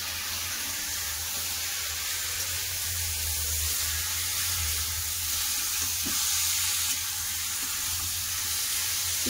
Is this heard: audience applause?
no